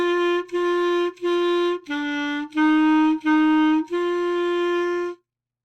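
Clarinet plays a slow beginner lesson line of seven sustained notes, each held roughly half a second to over a second with brief breaks between, clear and close with no talking.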